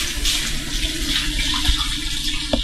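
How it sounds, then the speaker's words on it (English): Tap water runs steadily into a kitchen sink as a knife is rinsed after peeling plantain, with a soft continuous splashing rush and a few faint clinks near the end. "I'm going to wash my knife"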